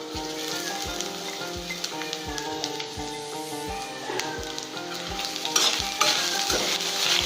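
Grated coconut is stirred into a frying rice mixture, a utensil scraping the pan in a quick, regular rhythm of knocks over a continuous close sizzle, with no talking.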